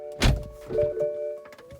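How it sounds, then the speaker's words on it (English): A single solid thunk of an Alfa Romeo Giulia Quadrifoglio's car door shutting, followed by faint rattles and a quiet electric whine. "I gotta close the door."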